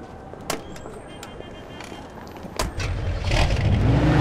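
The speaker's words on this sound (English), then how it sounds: "this car sounds awesome" A car engine in the video game Mafia 2 idles quietly after a couple of door-like clunks, then turns over and starts, rising into a louder, rumbling run close by.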